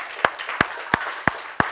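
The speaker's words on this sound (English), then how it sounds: "Somebody ought to give him a hand clap" A church congregation claps its hands, five crisp claps in an even, steady rhythm in a quiet room.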